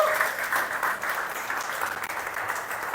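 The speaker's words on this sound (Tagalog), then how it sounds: "Palakpak para kay Lord." A church congregation applauds during a Sunday worship service, a sustained, moderately distant wash of many hands clapping that holds steady throughout without easing off.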